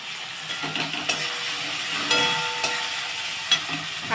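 Chana dal dropped into hot tempering oil for a vegetarian pumpkin and coconut dish, giving a steady close sizzle with a few sharp clicks and clatters of stirring, no talking.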